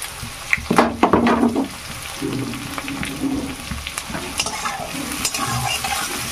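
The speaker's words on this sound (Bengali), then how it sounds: "এবার মরিচ পেঁয়াজগুলোকে একটু ভেজে নেব।" Chillies and onion frying in hot oil, a bright crackling sizzle with bursts of stirring and scraping in the pan, close and fairly loud.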